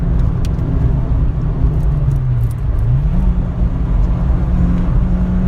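A Renaultsport Clio 182 engine drones steadily close by, its pitch dipping and then climbing again as the car accelerates on the road, alone with no talk.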